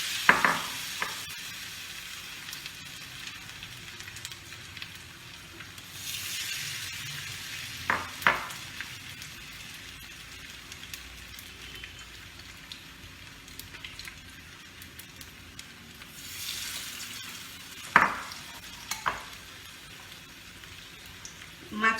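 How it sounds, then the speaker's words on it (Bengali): Thin batter-coated katla fish pieces fry in hot oil, a soft continuous sizzle with occasional sharp clinks and spatters, fairly quiet and steady. "মাছটা ভাজতে বেশি সময় লাগবে না।"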